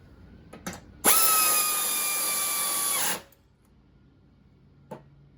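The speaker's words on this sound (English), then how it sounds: "I'm just going to run them down with my air ratchet here" An air ratchet runs down nuts on a Toro Turfmaster mower in one sustained, loud whirring burst lasting about two seconds, with a few short clicks before and after.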